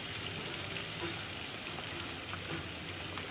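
Pieces of rohu fish, just turned over, fry in oil in a pan with a steady, dense sizzling hiss that continues throughout at moderate loudness.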